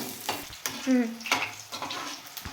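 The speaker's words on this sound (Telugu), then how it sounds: "ఆ నూనెలోనే వంకాయలు కూడా మగ్గించుకుంటున్నాను" Brinjal pieces sautéing in oil in a pan, a soft steady sizzle with a few stirring scrapes and clinks, close and moderately loud, with no talking.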